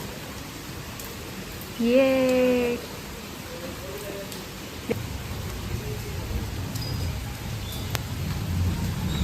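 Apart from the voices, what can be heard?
heavy rain falling on veranda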